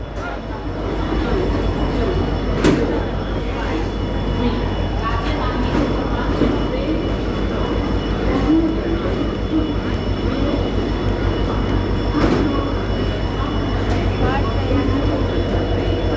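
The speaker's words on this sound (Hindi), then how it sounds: "ये डिपार्ट कर रही है मुरादाबाद जंक्शन से" Kathgodam–Delhi Express pulling out of Moradabad Junction, a loud, steady rail rumble with wheel and carriage noise running unbroken from start to finish, with faint station sounds mixed in.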